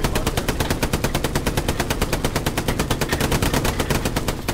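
Rapid, sustained machine gun fire in the World War II shooter Hell Let Loose rattles in a loud, even stream of closely spaced shots with no pause, close and dominant throughout.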